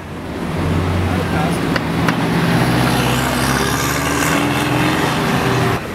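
A Porsche Boxster sports car drives past at a Praça Espanha car meet, a steady close engine drone with rising traffic noise and faint voices in the background.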